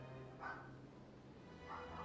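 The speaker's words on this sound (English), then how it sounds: "Let me go tell Obi to stop barking" Dog barking somewhere off in the house, two short muffled barks about a second apart, faint and distant behind a low steady hum.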